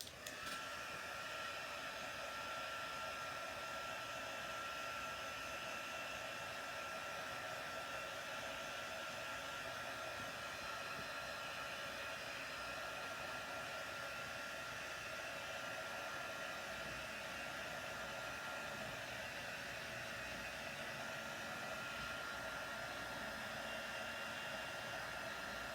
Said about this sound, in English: I'm going to dry this with my heat tool